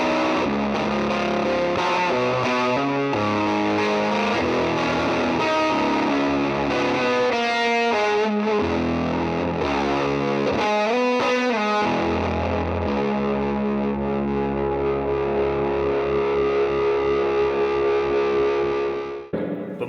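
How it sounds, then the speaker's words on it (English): An electric guitar with its built-in fuzz circuit switched on plays thick, distorted chords and sustained notes, loud and alone, ending with a long ringing decay. "this little switch engages a fuzz circuit, and the 2 knobs say grit and vol"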